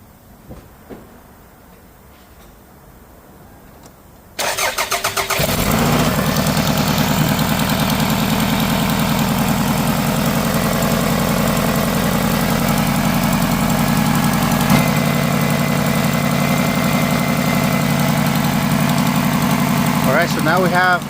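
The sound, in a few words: car engine starting and idling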